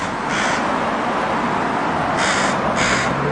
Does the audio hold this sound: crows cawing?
yes